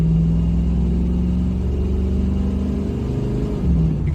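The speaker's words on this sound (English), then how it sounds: "You can hear her purring like a champ from a dual exhaust underneath." A 1972 Chevrolet Camaro RS V8 engine with dual exhaust rumbles steadily with a deep, throaty exhaust note, holding a low idle-like revving throughout, close and fairly loud.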